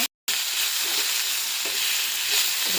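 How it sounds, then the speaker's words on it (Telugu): Oil sizzles in a pan while broad beans fry, a loud, even hiss that runs continuously after a brief gap at the start, with faint stirring clicks. "బాగా ఆయిల్లో ఫ్రై అవుతుంది కదండి"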